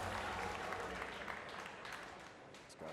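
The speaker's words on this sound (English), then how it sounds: "You got to applaud that" Faint, steady audience applause at a PBA Bowling Tour stepladder final, a dense patter of clapping that holds evenly for a few seconds.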